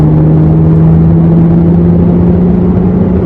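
Car engine accelerating in third gear up to about 4000 RPM during an engine break-in run, a steady loud droning hum with a strong low tone, continuous and close.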